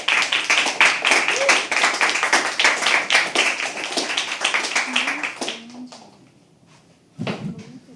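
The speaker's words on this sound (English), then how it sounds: "Can we please have a bigger, crazier round of applause?" Audience applause at a live poetry open mic, dense rhythmic clapping from a small crowd that fades out after about five seconds before a brief burst returns, with faint voices underneath.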